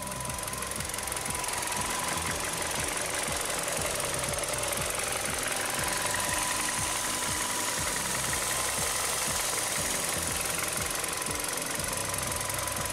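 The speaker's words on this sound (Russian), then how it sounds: "Работа двигателя на холостом ходу." Steady, close idle of a 1.6-litre G4FC engine from a 2010 Kia Ceed, a continuous even rumble with a fast regular tick and slight knock running unchanged throughout, no voices.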